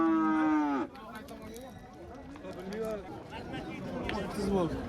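A cow at a livestock market lets out one loud, close moo at the start, then busy crowd chatter and people talking fill the rest.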